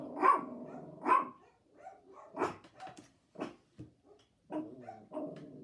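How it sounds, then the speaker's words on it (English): A dog barks in a string of sharp, separate barks, close and fairly loud, with short whimpering yips mixed between them and no talk. "Don't bark because he barks. You don't even know why you're barking."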